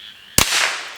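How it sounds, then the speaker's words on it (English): A single sharp gunshot from a Remington Scoremaster 511 rifle, fired outdoors, cracks close and loud, followed by a short decaying echo with no talking. "Let's go again for one of the smaller pieces, because I just love shooting this gun"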